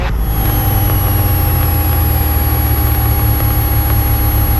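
Training aircraft engine throttled back toward idle during a private pilot lesson, a loud, steady low rumble with a constant whine on top, heard close in the cockpit and unbroken throughout.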